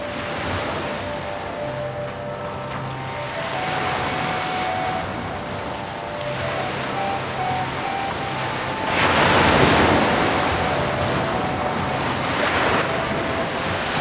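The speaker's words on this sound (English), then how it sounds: "He swam through the dashing waves and reached the rock" Ocean waves at Kanyakumari, the southern tip of India, wash and surge steadily with wind buffeting the microphone, and a louder crashing swell arrives near the end, with no voices.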